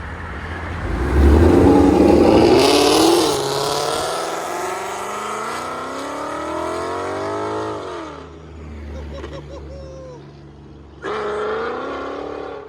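A Procharged Mustang GT with a 5.0L V8, headers and a Corsa cat-back exhaust revs loud and close, a deep droning roar that rises and falls and then settles into a rumbling idle before another brief rev.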